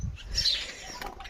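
Sparrows chirp near their nests at a rural village home on a sunny day: a few brief, high chirps sound close by over soft background noise.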